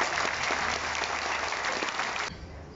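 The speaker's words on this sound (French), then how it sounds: "on va pouvoir en plus se réchauffer en applaudissant très très fort nos 4 otaries stars du jour" An audience at a Nausicaa aquarium sea lion show claps for the performing sea lions, a dense, steady burst of applause that fades out after a couple of seconds.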